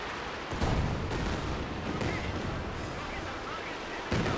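An artillery barrage thunders in the World War II strategy game Company of Heroes 2, with repeated heavy booms and rumbling detonations rolling in over a steady battle din, at a loud level throughout.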